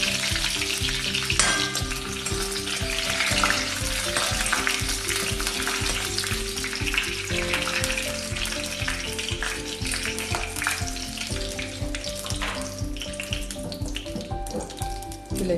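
Mustard seeds tempering in 1.5 spoons of hot coconut oil with curry leaves and chillies for pineapple pachadi, giving a close, steady, loud sizzle and crackle with faint background music.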